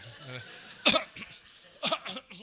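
Two short, sharp coughs break through nearby, separated by a pause, with a voice murmuring softly around them.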